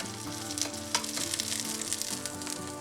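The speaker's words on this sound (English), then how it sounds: "It's better to either pan fry them like this or to bake them in the oven." Salmon fish cakes pan frying in oil give a steady, close sizzle with crackling pops throughout and no talking.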